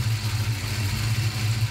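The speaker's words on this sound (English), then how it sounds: "Seems to be idling a little bit better." A 1994 Mustang GT engine idles with a steady, low rumbling hum after a pushrod swap, close by and continuous, with no voices.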